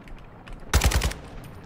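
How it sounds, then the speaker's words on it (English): Automatic gunfire in Warzone 2.0, a fast burst of roughly five loud, close shots in quick succession that stands out sharply from a low background. "I'm getting shot by another team as well"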